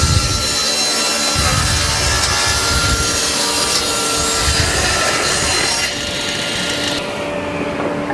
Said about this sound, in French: Quand on scie, on laisse en moyenne une dent au-dessus de la pièce de bois.